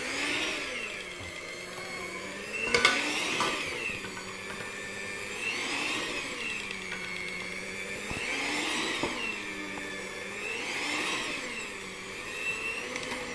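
An electric stand mixer kneads donut dough with a steady, close motor whine that rises and falls in slow repeating cycles as the hook turns, broken by a few sharp knocks, with no talking.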